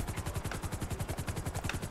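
Buckingham Volatus luxury helicopter in GTA 5 Online, steady rapid rotor chop with a whining turbine, close and continuous.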